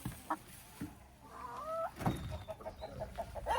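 Newly bought chickens clucking and calling close by, a run of short cackles and a few longer wavering notes, with a hen's excited chatter carrying through the whole stretch.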